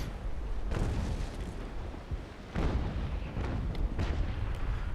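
Heavy cannon fire from sailing warships in the naval combat game Naval Action, with a Constitution-class frigate in a fleet battle: booming broadside blasts at about 0.7, 2.6 and 4 seconds over a constant rumbling din.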